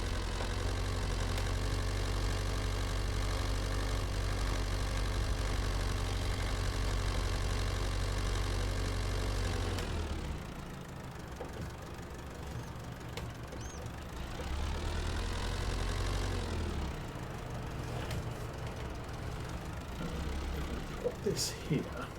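A diesel truck engine idles with a steady low rumble in Farming Simulator 22, then drops off around the middle and gives way to quieter mechanical hum. Someone talks over it.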